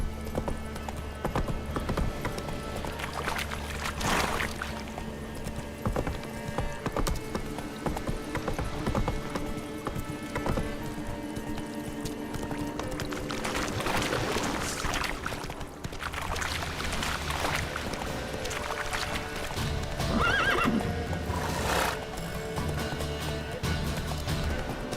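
Roach, a horse in The Witcher 3: Wild Hunt, gallops with steady clip-clop hoofbeats over game music and ambience, with a possible brief neigh; the sound stays loud and continuous throughout.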